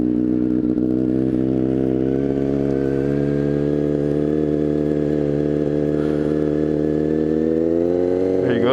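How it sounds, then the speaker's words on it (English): A motorcycle engine, recently crashed and started with choke, idles loudly up close in a steady, even rumble that rises slightly in pitch near the end. "Give her some choke. And she fires up one time, no problems there."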